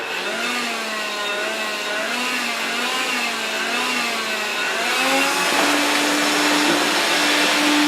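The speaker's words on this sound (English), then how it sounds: "This is an Electrolux Ergorapido Lithium vacuum cleanery battery powered thing" A battery-powered Electrolux Ergorapido Lithium stick vacuum cleaner runs with a loud, steady whining drone whose pitch wavers slightly, then rises and steadies near the end, with no talk over it.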